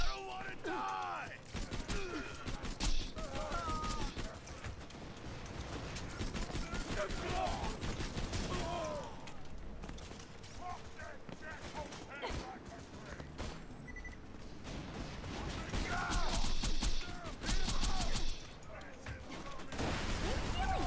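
A chaotic Borderlands 2 firefight with mercenaries: repeated bursts of gunfire and heavy blasts, including a grenade explosion, keep going for about twenty seconds. A voice comes through at times over the shooting.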